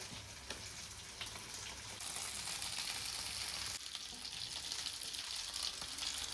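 Masala-coated food fries in a pan with a dense, continuous sizzle that swells slightly partway through, close and fairly loud with no voices over it.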